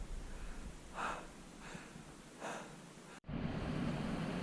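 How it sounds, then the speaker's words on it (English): A small mountain creek on a hike in Little Lakes Valley rushes with a steady, soft hiss; a few close breaths sound over it before the flow briefly cuts and returns a bit louder and fuller. "Big Sound, Little Creek."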